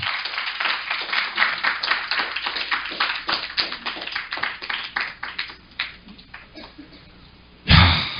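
Scattered audience clapping at a lecture on using AI, a fast stream of distinct hand claps that thins out toward the end before a sudden loud thump.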